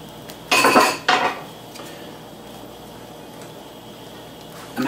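A spatula scrapes and spreads omelette egg around a pan in two loud, harsh bursts of metal on metal close by, followed by a quieter stretch and another brief scrape at the end.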